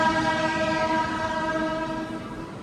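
A train departs a station, moving along with a sustained horn tone ringing over low rumbling, the sound gradually fading as it pulls away.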